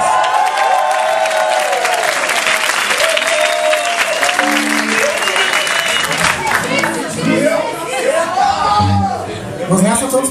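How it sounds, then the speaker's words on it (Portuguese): Concert crowd applauding for a dancing section during a show, sustained loud clapping with cheering and chatter while a voice and sung melodic tones carry over it. "Palmas pra eles!"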